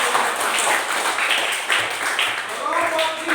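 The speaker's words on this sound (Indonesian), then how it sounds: "Ya, tepuk tangan." Students clap their hands in a classroom, giving a steady burst of mixed applause. Some voices are audible over it.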